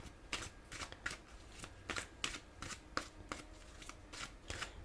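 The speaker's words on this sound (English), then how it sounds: "So I'm gonna pull some more cards to clear this." Playing cards are shuffled in a quick, even rhythm of about a dozen soft riffles and flicks. The sound is close but quiet and nobody speaks.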